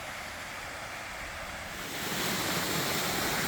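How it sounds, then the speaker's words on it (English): Cascading waterfalls on a creek near Iris Falls, Lost Corner, Arkansas, roar as a steady broadband rush of falling water that swells louder partway through, with no voices. "there's a cascade of like 3 waterfalls right here"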